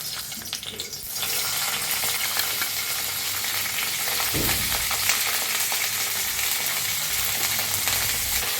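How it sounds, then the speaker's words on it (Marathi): Green chillies roast in a little oil in an iron kadhai, producing a steady, loud, close sizzle that starts abruptly after a second and continues without pause, with occasional stirring scrapes and no voices. "लोखंडाची कढाई ठेवली बघा कढाईत मध्ये वतलंय थोडंसं तेल आणि मिरच्या आपण भाजून घेऊया"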